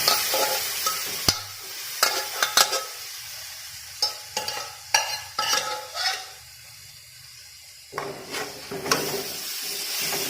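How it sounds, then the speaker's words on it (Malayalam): Cooked chicken and its water go into a pan for Kerala chicken stew, with bursts of sizzling and repeated spoon scrapes and clatters against the pot between quieter pauses, no talking. "ഇനി ഇതിലേക്ക് നമുക്ക് വേവിച്ച് വെച്ച ചിക്കൻ ഇട്ടു. കുറച്ച് വെള്ളമുണ്ട്, ആ വെള്ളത്തോട് കൂടി തന്നെ ഇട്ടു കൊടുക്കാം."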